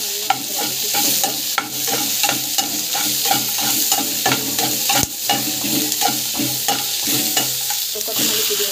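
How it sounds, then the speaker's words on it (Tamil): Garlic sautéing in a hot pan, a loud continuous sizzle broken by frequent rhythmic scrapes and knocks of a spatula stirring, close and with no voices. "பூண்டு நல்லா வந்து வதக்கிக்கோங்க"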